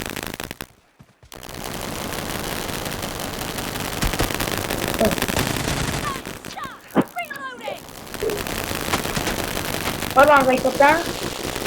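Gunfire in the battle royale game BGMI: bursts of automatic fire and single shots spread through the clip, fairly loud, with a player talking over the action.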